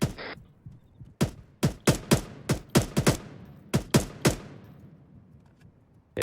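About a dozen sharp, loud gunshots crack during airsoft or paintball team training, some in quick doubles and others spaced apart, each with a short echoing tail, before the firing stops.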